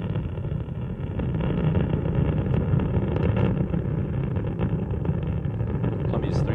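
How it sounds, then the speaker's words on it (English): Space Shuttle Columbia's three main engines roar during launch ascent on mission STS-83, a steady, dense, distant-sounding rumble holding evenly throughout without talk. "Columbia's three-main engines is now throttled back to two-thirds throttle"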